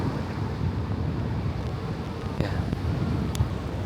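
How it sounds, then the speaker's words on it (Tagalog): Wind blowing outdoors at the Imperial Palace Outer Garden in Tokyo, a steady, broad rushing and buffeting against the microphone that runs the whole time, with a few faint knocks from nearby. "May hangin ngayong araw."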